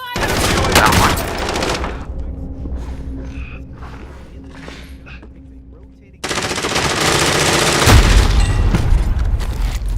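Dense bursts of automatic gunfire and booms in Call of Duty Warzone pound loudly at the start, drop to a quieter stretch with faint scattered shots and a low hum, then return as sustained, heavy rapid fire.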